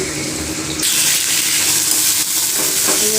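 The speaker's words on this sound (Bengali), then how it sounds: "আর এখানে মাংসের আলুগুলো ভাজা হচ্ছে" Potatoes for a chicken curry fry in oil with bay leaves and a little sugar in a kadai, giving a loud, continuous sizzle with a few brief surges and no talking.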